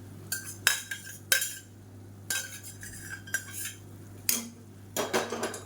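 A spoon stirs cooked moong dal into drumstick leaves in a cooking pan, giving a series of distinct metallic scrapes and clinks in irregular strokes, close by and alone.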